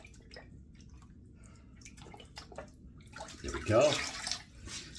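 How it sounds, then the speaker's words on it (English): Water splashes and drips as soap is rinsed out of a washcloth, rising to a fuller running-water rush near the end, with a short spoken remark over it. "I'm just rinsing out the soap out of the washcloth"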